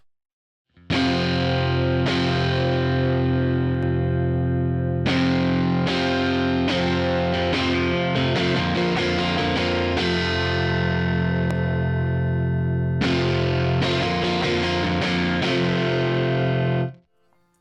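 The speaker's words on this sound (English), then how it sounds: "just strum some chords for you so you can really hear it as the saturation starts to kick in" Electric guitar chords strummed in bursts through an Axe-Fx III with mic preamp saturation, a gritty, saturated overdriven tone, ringing out between strokes, loud and close with no talking.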